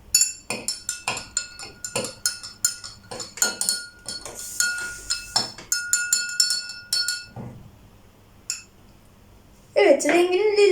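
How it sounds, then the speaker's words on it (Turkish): A spoon stirs shampoo mixed in a drinking glass during a household acids-and-bases experiment, making quick, bright rhythmic clinks against the glass that pause near the end, after which a voice briefly speaks. "Ve karıştırıyoruz kaşık yardımıyla."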